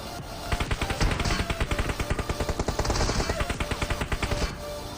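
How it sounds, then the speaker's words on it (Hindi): Sustained automatic gunfire in the PUBG video game, a fast rattling stream of loud shots from a mobile iPad Air 3 session, with a voice talking faintly underneath. "तभी मेरे पे बहुत गलत वाला फायर हो जाता है"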